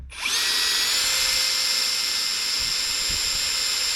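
A power drill bores holes in a Drascombe Lugger boat while fitting Osculati lockers: a steady, close, high-pitched whine that starts abruptly and runs continuously for several seconds, with a few faint knocks underneath.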